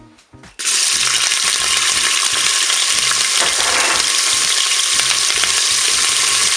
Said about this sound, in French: le préchauffage est terminé, je vais pouvoir mettre mes oignons